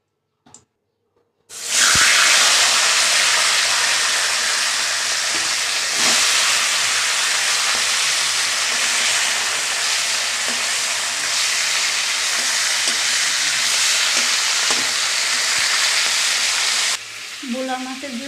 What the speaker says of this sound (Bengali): কড়াইতে একটু তেল দিয়ে দিলাম